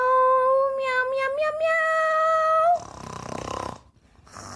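A cat gives a drawn-out, rising meow that ends in a rough, raspy, snore-like rumble. Both sounds are close and loud, with no speech.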